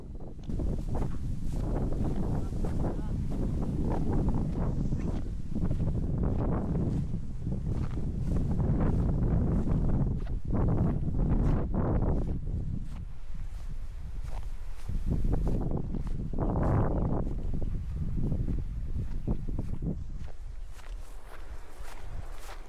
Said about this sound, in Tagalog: medyo mahangin din dito sa taas